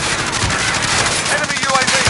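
Rapid automatic gunfire and shots in a video game, loud and continuous, with a game voice calling out over the shooting.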